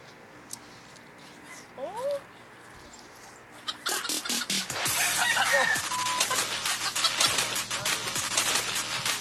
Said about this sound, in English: The chicken's in there for a long time.